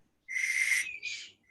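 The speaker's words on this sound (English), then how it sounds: "Whistling, my God." A single high, breathy whistle made by blowing across the open end of a pen cap, sustained for about half a second before breaking into a shorter second tone, close and clear with no talking.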